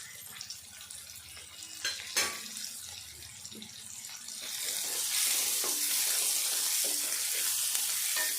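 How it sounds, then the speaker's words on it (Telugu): Ivy gourd pieces and onion fry over low heat in a pan, a soft steady sizzle with occasional utensil knocks, swelling into a louder, hissing rush in the second half. "ఈ దొండకాయ ముక్కలు ఉల్లిపాయ కూడా మంచిగా వేగాలి, గోలాలి."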